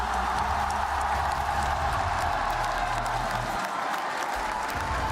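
A crowd at an esports Fortnite tournament applauds and cheers in a sustained, dense wash of clapping and shouts that carries on without pause.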